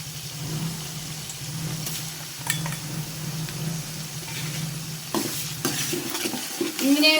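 Masala for pulao fries in a pan with a steady sizzle while a spoon stirs and scrapes against the metal in repeated strokes, close by.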